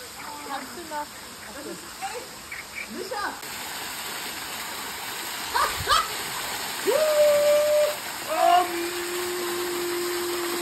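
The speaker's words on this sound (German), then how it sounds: "Leute, ihr seht einen Schwefelwasserfall." A warm sulphur waterfall on the volcanic Azores islands gives a steady rushing splash of falling water throughout, with people talking over it and a dog barking.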